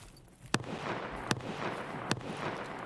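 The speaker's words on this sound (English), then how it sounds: "I heard a bunch of shots right after I was done shooting." Gunshots in the video game Escape from Tarkov: four distant, evenly spaced single shots ring out about a second apart over a steady background hum, with no one talking.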